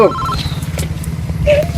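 A phone rings with a short electronic tone over a steady low engine-like hum, followed by a brief rising chirp near the end.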